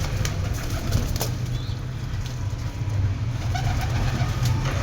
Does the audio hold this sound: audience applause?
no